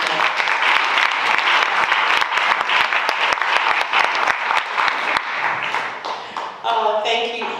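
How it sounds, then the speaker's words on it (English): An audience at a Stockbridge Women's History event applauds Representative Moore: dense, steady clapping from a crowd for about five seconds, thinning out as a speaker begins talking near the end. "Let's please give a round of applause for Representative Moore"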